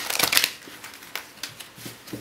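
Quick bursts of tarot cards being shuffled, a dense riffling flurry at first followed by a few lighter, scattered flicks and taps, close and fairly quiet.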